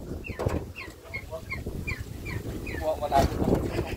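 Turkeys on a farm call out in a string of short, rising gobbling notes at moderate distance, repeated steadily over low background noise, with people speaking quietly nearby.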